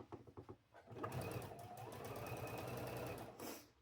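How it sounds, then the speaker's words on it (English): A domestic sewing machine stitching quilt block pieces for a farm bee block runs in a steady rapid whir after a few short starting bursts, close and fairly quiet, then stops. "let me get these sewn on"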